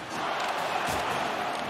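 A crowd at a sporting event cheers for the home team, a loud, steady wash of many voices with no pauses.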